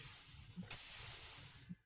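A steam machine in the Minecraft modpack TerraFirmaGreg hisses with a steady, breathy rush, swelling into a sharper burst partway through and then fading, with no talking over it.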